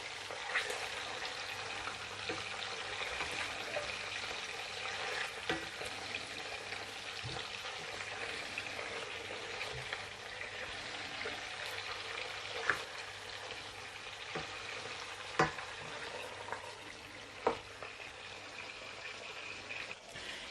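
Fish fries in oil in a pan, a soft continuous sizzle with occasional sharper pops and crackles, quiet and steady throughout.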